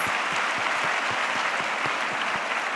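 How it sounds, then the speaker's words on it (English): Steady round of applause from an audience for teams at a quiz event during centenary celebrations, a full even wash of clapping with a few distinct near claps standing out at regular moments. "Let us have a big round of applause for all the teams."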